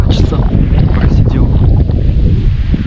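Strong wind buffets the microphone with a steady low roar during trout fishing, with faint water sounds in the background.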